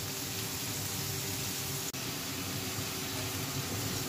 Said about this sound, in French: Désolée pour le petit bruit de fond que vous entendez, c'est mon lave-vaisselle.